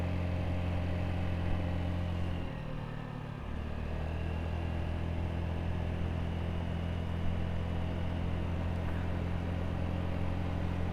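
Honda Navi mini motorcycle riding through parkland in Louisville, Kentucky, a steady low engine drone with a brief dip and return in pitch, continuous wind-like road noise throughout.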